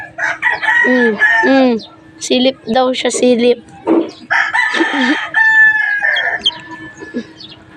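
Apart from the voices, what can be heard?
chickens clucking and crowing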